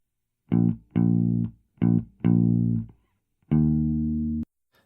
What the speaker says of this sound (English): So just the Bassman amp sounds like this.